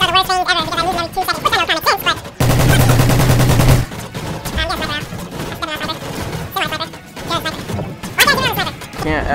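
A rapid burst of weapon fire in the Mass Effect video game, about a second and a half of loud, fast repeating shots. Excited talk and other game sounds fill the moments before and after.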